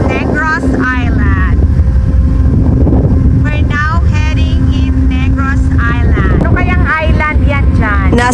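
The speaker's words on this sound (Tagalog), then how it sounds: "Ay, lakas ng hangin." Strong sea wind buffeting the microphone on the deck of a RORO ferry near Negros Island, a steady rushing roar throughout with a person talking over it.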